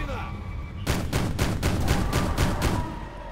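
Gunfire in a video game, a sudden burst of rapid, loud repeated shots after a brief quieter start, with a voice speaking briefly alongside.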